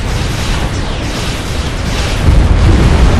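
An enemy commander unit blows up in Supreme Commander: Forged Alliance, a loud sustained explosive roar with dense rumbling debris that swells heavier toward the end.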